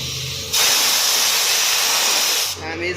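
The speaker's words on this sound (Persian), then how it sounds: "برای تمیزکاری این قسمت که خیلی روغن خوردگی شده از یه قوطی بنزین استفاده میکنیم" A can of petrol cleaner sprays onto an oily Pride car engine with a steady, loud hiss lasting about two seconds, then cuts off, with no speech over it.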